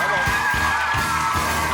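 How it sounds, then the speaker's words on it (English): A studio audience cheers and whoops loudly throughout the short stretch of a comedy prison game show, a steady dense crowd roar with repeated swells and no clear claps. "Give them a big cheer and round of applause."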